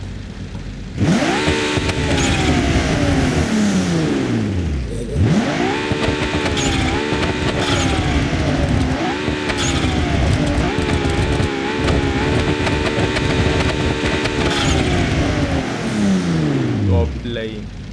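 A modded BMW E30 engine in BeamNG Drive winds up hard through repeated rising revs and gear pulls, each sweep climbing then dropping, loud and steady across the whole stretch.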